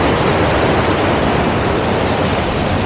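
The waterfalls at Killin, Scotland, on a drizzly morning, a loud, continuous roar of rushing water that stays broad and unbroken from start to finish with no voices over it.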